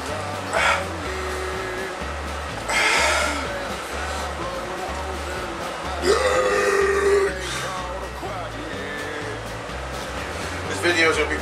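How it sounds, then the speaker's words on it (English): A man belches after drinking beer, producing several loud, drawn-out burps at intervals over a steady pulsing background. "This video is going to be more focused on the belching aspect."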